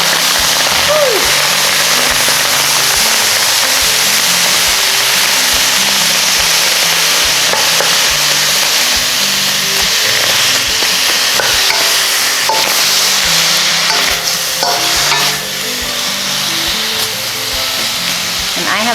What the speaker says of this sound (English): I'm just going to add a little bit of water, a splash, till I start to really hear it sizzle and steam.